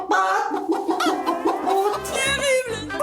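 A woman imitates a hen with her voice, making loud, rapid, pitch-bending clucks and squawks in a quick, jerky rhythm, close to the microphone.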